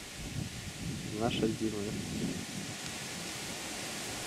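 Strong wind blows outdoors at a campsite with tents near a road during a bike trip in Zhytomyr region, a constant broadband rushing roar, with someone speaking briefly over it early on.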